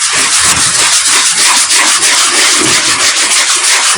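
An 80-grit sanding sponge scrubs Bondo on a miniature base in slow circular motions, giving a steady, close, loud abrasive rasp that pulses gently and runs continuously with no talking.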